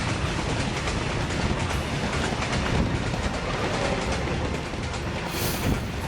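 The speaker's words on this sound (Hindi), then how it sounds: "हुगली नदी का सीना चीरकर फर्राटा भरती अंडर वाटर मेट्रो।" Kolkata's underwater metro train running through a tunnel 32 metres beneath the Hooghly River, a loud continuous roar with rattling clickety-clack and mechanical clatter from start to finish.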